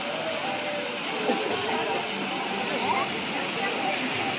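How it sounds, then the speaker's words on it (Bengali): Steady rushing spray of water as a fountain starts up, a continuous hiss like a falling stream, with faint crowd noise in the background. "এখন স্টার্ট হলো ঝর্ণা"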